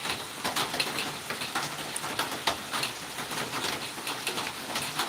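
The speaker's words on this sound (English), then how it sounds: "It's a rainy, relaxing day." Steady rain patters down on a rainy day in South Georgia, a dense, even hiss of drops with faint bird calls mixed in and no talking.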